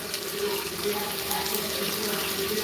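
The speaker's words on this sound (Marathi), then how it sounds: "बटाटा चिरून घेतलाय तो धुवून घेऊ एकदा" Tap water runs steadily into a sink while chopped potatoes are washed under it, a close, continuous hissing splash with no pauses and no talking.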